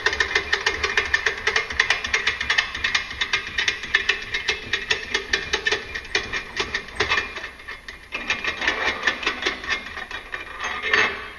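A ratchet wrench clicks rhythmically as a nut is backed off the EPI CCT520 clutch compression tool held in a vise, steady close metallic clicking strokes with a short pause before resuming.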